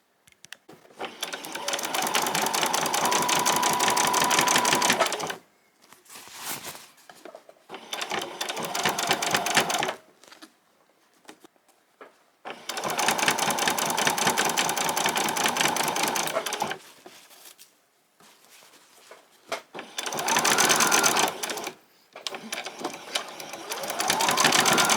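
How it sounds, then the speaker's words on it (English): A sewing machine stitches a seam in long bursts of rapid, even rattling, close and loud, broken by short pauses and quieter stretches of handling and repositioning the fabric. "then we're going to come back and we're going to machine it."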